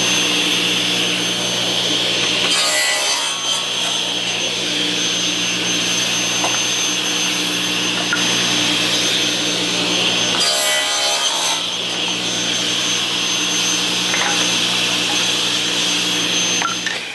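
A power saw cuts wooden pieces to one length in a workshop, a loud steady whine running throughout, with two brief bursts of heavier cutting noise partway through and no talking.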